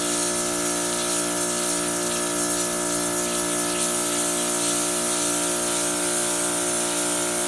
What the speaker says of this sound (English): as I keep on pressure washing that area, it finally lightens up.